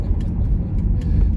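A 1999 Pontiac Firebird Trans Am with a small block Chevy V8 revs hard, giving a loud, close, continuous low rumble.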